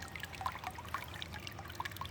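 Water trickling and pouring into a garden pond at a homestead, a soft steady flow with faint bright drips, heard alone and fairly quiet.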